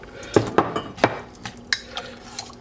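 Cheese, including mozzarella and feta, is whisked into a sauce in a pot, heard as irregular metallic clinks and scrapes of the whisk against the pot, close and fairly sharp with no talking.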